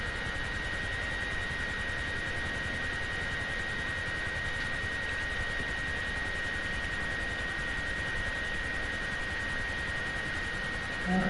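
Synchro pair of display aircraft passing at an airshow, one flying upright and the other inverted above it, giving a steady, sustained broadband engine roar with a high whine that holds throughout without obvious rise or fall.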